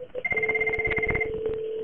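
A Cisco 7912 or 7965 IP desk phone rings on an incoming call in a lab setup, giving a loud, close electronic ring with a rapid warbling pulse that continues steadily.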